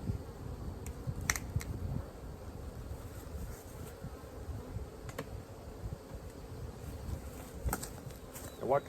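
A low, steady drone of a mixed Carniolan and Caucasian honey bee swarm buzzing close by, a dense hum with a few soft knocks and light wind noise.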